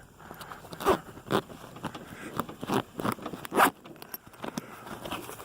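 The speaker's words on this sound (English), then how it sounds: "You can only unzip it." A zipper on a soft vehicle door window rasps open in several short, sharp pulls separated by brief pauses, up close and with no one talking.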